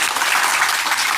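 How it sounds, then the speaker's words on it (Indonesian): A short, loud, dense burst of audience applause, steady clapping from a room of people with no voices above it. "tepuk tangan untuk kita semua"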